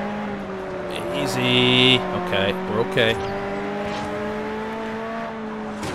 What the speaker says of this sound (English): All these Ferrari engines.